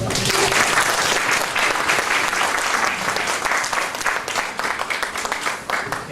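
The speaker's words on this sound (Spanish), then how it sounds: "le damos un gran aplauso" An audience gives a sustained round of applause after a talk on liturgy, dense continuous clapping from many hands that holds steady and tapers slightly at the end.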